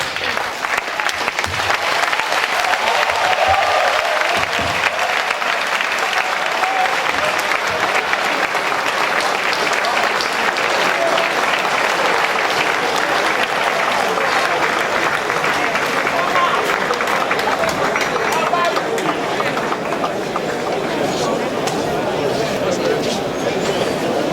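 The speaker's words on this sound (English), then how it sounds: "another round of applause" Audience applause after a university lecture at Uniben, a long, loud, continuous wash of crowd clapping lasting over twenty seconds.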